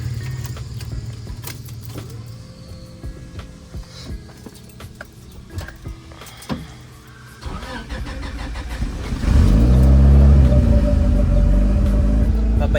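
A Honda ESi with a SOHC turbo engine cranks, then catches and settles into a loud, rumbling idle, heard close up with some clicks and handling noises before it starts.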